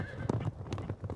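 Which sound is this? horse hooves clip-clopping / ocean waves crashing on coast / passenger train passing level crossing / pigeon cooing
horse hooves clip-clopping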